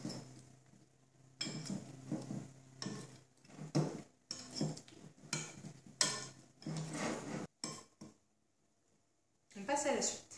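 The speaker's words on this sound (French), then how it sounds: "Je vais en mélanger un petit peu." A utensil stirs pineapple cake batter in a bowl, giving a run of irregular scraping and clinking strokes against the dish with short pauses between bursts, close by and under a person talking.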